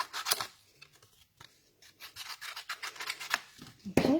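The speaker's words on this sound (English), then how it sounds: "Okay, so now just going to trim these down." Card stock is trimmed by hand during card making, with close, intermittent cutting and rubbing sounds in short bursts separated by quiet gaps, ending in a sharper handling noise.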